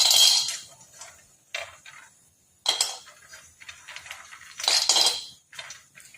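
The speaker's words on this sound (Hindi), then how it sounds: "हमें एक के बाद एक ड्राई फ्रूट्स कढ़ाई में डालते जाने हैं और थोड़ी देर के लिए भून लेना है" Almonds and other dry fruits tipped into a kadai for roasting, producing bright clattering rattles in several separate bursts with quiet gaps between them, close and clear with no talking.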